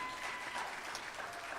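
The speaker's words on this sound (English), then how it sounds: "let's give them a round of applause" Audience at the 2025 Miss Juneteenth Nevada scholarship pageant claps in a steady, fairly distant wash of applause, soft and continuous throughout.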